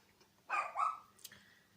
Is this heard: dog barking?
yes